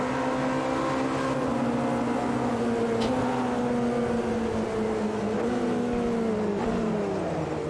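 A Porsche GT3 race car engine in Automobilista 2 at the 24 Hours of Le Mans drones loudly and steadily, its pitch rising and falling as it revs through the gears, heard alone with no speech.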